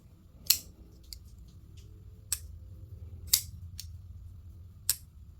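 A Gavko Highfin balisong butterfly knife being flipped, four sharp metallic clacks spaced irregularly over several seconds, close and distinct against a quiet background.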